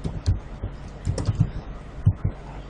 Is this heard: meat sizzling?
no